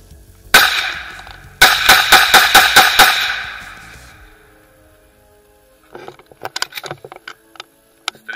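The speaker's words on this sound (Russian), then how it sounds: "Как так вепрь стреляет очереди, да?" A real Vepr rifle fires one loud, sharp shot, then a rapid burst of about six shots. The echoes fade into quiet, followed by scattered small mechanical clicks.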